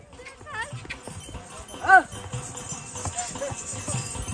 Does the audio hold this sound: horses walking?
yes